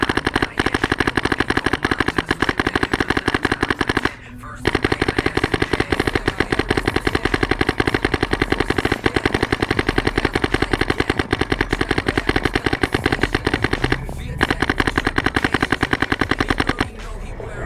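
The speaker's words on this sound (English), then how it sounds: "It's gonna shoot a little smoother, but it's gonna keep that bolt cycling fast over high rates of fire." A Planet Eclipse GSL paintball marker fires at a very high rate, a fast steady stream of sharp clicking shots close to the microphone, broken by two brief pauses.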